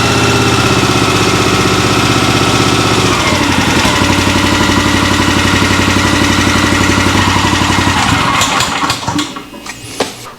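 Eastonmade 12-22 log splitter's small engine runs loud and steady close by, then the throttle opens up and the revs climb and change over the last couple of seconds.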